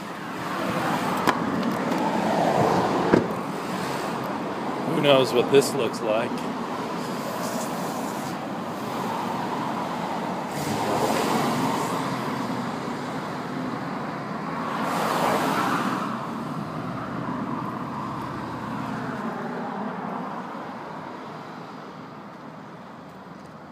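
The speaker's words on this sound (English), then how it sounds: "A lot of traffic." Steady road traffic on Hawthorne Boulevard in Portland, Oregon: a continuous wash of passing cars with a few louder swells as vehicles go by close, and one short voice partway through.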